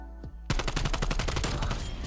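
Gunfire in a first-person shooter video game: a rapid string of close, loud automatic shots fires steadily for over a second after a brief quiet start.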